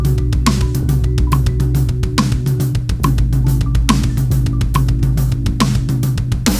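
A drum kit plays a steady groove with even kick and hi-hat patterns, snare hits and cymbal strikes, close and loud with no talking.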